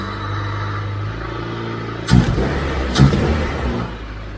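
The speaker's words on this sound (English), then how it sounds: "So right now the car is running with jumper cables connected to this car" Honda CRX with a swapped K-series engine running on jumper cables, a steady low idle hum with two brief louder surges, close and alone.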